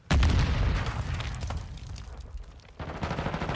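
Heavy gunfire and an explosion in Warzone 2 (Modern Warfare 2): a loud booming blast opens, followed by continuous rattling fire and rumbling impacts, with another burst near the end.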